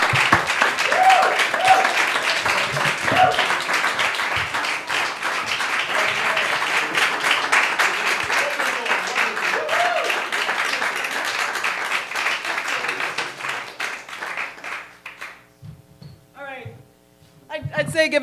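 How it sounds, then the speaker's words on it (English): An open mic audience claps after a comedy set, a sustained round of applause with scattered voices and cheers, fading near the end as a host begins speaking. "give another round of applause for George, but he doesn't give a fuck."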